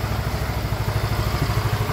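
A Yamaha Mio i 125 motorcycle engine runs at a steady idle, close and fairly loud, with a regular pulsing low thrum and light mechanical clatter.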